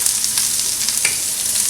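Onions fry in a pan for chilaquiles, giving a bright, steady sizzle close up, with faint clicks of stirring and no voices over the short stretch.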